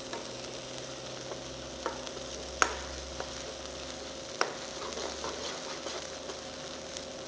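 A masala mixture for Chettinad cashewnut chicken stirred and fried in a pan, a steady low sizzle with a few sharp spoon scrapes and taps against the metal, close and fairly quiet, no voices.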